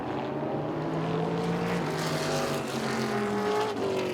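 Race cars roar continuously around the oval at Southern National Motorsports Park, engines droning loud and steady with rising and falling pitch as the pack circles, no talk over it.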